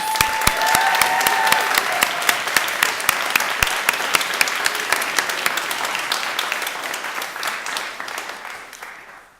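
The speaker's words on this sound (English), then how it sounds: "Please give the winners another round of applause." An audience at a writing awards ceremony applauds the winners with dense, sustained clapping that holds steady and then slowly tapers off.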